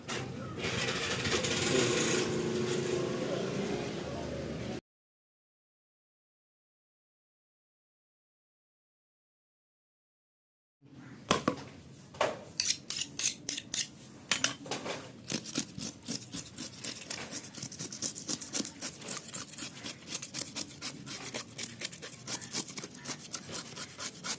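Lake vavval fish being cleaned for frying give off a quiet, steady scraping rasp. After a silent gap, close, rhythmic scraping strokes return, some sharper and clicking, and go on without a break.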